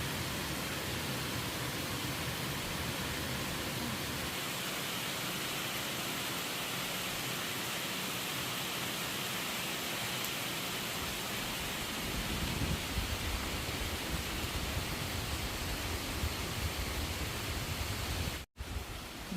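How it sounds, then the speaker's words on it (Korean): Steady rain falls outside a wooden cabin of domestic larch at a forest recreation area, a dense, even hiss that holds throughout with a slight swell near the end and a brief dropout. "그 비가 시원하게 내려와"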